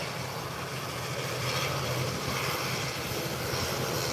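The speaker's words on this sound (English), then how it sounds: "They're Airbus 320 coming in from Atlanta, Georgia." An Airbus A320 airliner arriving from Atlanta rumbles at the airport, a steady broadband jet roar heard from a distance with no talk.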